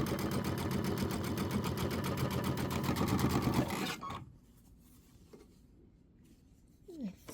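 A sewing machine runs steadily for about four seconds, stitching through a star-pattern quilt with a fast, even rattle, then stops, leaving quiet handling noises and a faint knock.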